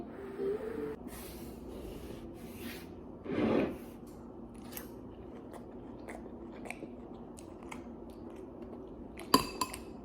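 Someone chews soft fried cabbage that still has some crunch, close to the mic and fairly quiet, with a few scattered bites and a louder crunch or two over light room noise.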